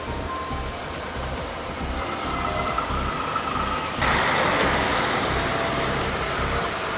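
Fire trucks drive along a road toward a station at the Bruce A and B nuclear power plants, a steady heavy engine and road rumble that grows louder and fuller about halfway through, with no talk.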